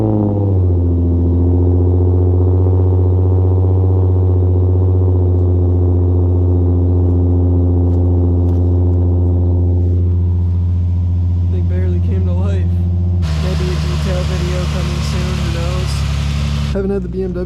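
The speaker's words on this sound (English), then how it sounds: "First, I'm going to go ahead and start the cars up and pull them out." Nissan 350Z engine idling, a loud, steady low rumble close by that holds throughout, with a brief louder surge near the end.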